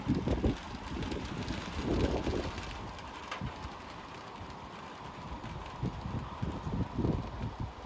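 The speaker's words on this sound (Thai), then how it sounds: "ได้ยินเสียงลมกันไหมเอ่ย" Steady outdoor wind in rainy Sweden rumbles and buffets the microphone, with a few brief louder gusts and some faint bird sounds in the background.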